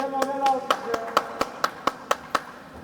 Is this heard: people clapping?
yes